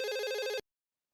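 A single burst of a telephone ringing, bright and steady, cutting off abruptly after about half a second and leaving silence.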